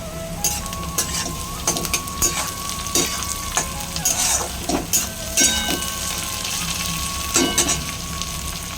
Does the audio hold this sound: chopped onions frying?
yes